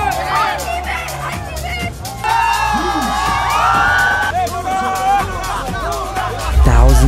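Large crowd at a FIFA World Cup 2022 show cheering and whooping, a dense roar of voices with shouts and chatter sustained throughout, swelling louder near the end.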